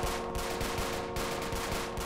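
Rapid gunfire in the police video game Notruf Hamburg, a dense, continuous rattle of shots at a steady fast rhythm, loud and close, with no voices over it.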